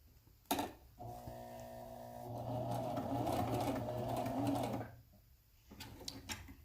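A sewing machine runs a straight stitch through a waxed sandwich-bag booklet, a steady whirring hum for about four seconds after a sharp click, then stops, followed by faint handling taps.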